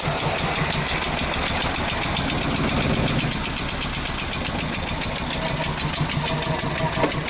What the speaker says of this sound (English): Yeah, nice cold start on the 45-degree day.